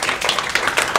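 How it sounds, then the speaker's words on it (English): A short burst of clapping at an award ceremony, a few close, loud hand claps in quick irregular succession, suggesting a small group applauding nearby. "Give them a big round of applause."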